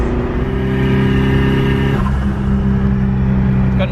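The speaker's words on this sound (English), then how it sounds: "It's got an exhaust leak at the moment, which we'll have to fix up" Project car engine idling with an exhaust leak, a steady low droning rumble close by with a slight dip in tone partway through, no talking.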